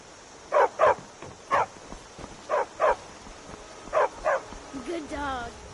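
A dog in the video game Skyrim barks in short paired bursts, three doubled woofs at a steady pace, followed by a brief whine at the end.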